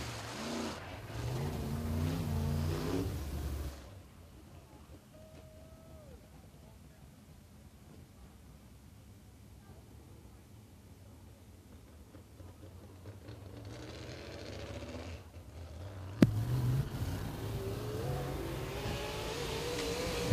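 Open wheel modified race cars circle 411 Motor Speedway during qualifying, with engines roaring loudly at the start and again near the end and fading to a faint distant drone in between, under a track announcer's commentary.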